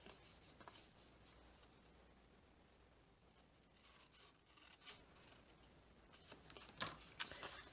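Scissors cut through card around a blossoming basket design, giving soft scraping snips close by, growing crisper and louder toward the end.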